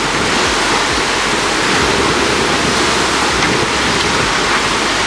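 Ocean waves in confused seas heard while sailing, a loud continuous rushing wash of water with wind noise filling the whole stretch, no talking.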